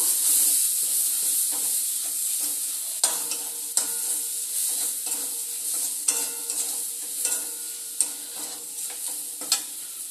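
Fried prawns are sautéed with spice paste in a pan, a close, steady sizzle punctuated by sharp spatula scrapes and knocks at irregular intervals, with no one talking.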